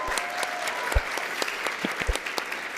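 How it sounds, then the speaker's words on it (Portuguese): An audience at a talk-show taping breaks into sustained applause, a dense, even wash of clapping with a few sharper individual claps standing out near the front. "Dá uma salva de palmas de novo para ele."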